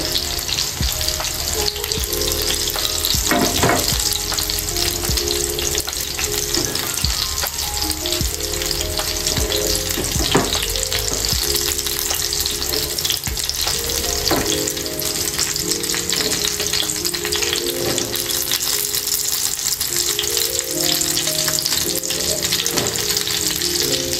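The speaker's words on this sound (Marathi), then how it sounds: "हे बाकीचे फ्राय करायला ठेवते।" Seekh kebabs fry in a pan with a loud, unbroken sizzle close by, punctuated by occasional scrapes and taps as pieces are moved around.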